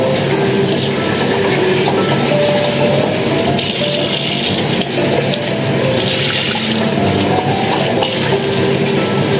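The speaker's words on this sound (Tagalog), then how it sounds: "hugasan natin ng malamig na tubig or warm water" Tap water runs steadily and loudly over blanched pork bones as they are rinsed in a kitchen, with splashing and shifting as the bones are handled.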